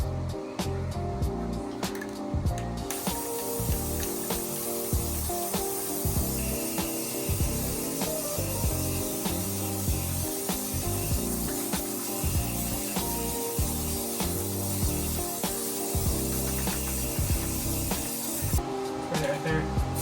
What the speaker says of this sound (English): So let's go ahead and start spraying this down.